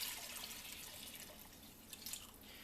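Water pours into a soup pot for kale soup, a soft, faint, continuous splashing trickle with slight variations, heard alone at low level.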